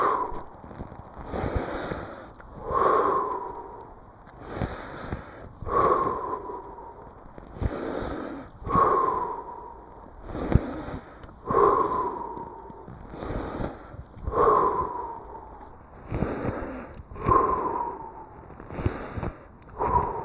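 Steady, rhythmic breathing during a lymphatic body flow workout, with close, audible inhales and exhales repeating about every second and a half, alone without talk.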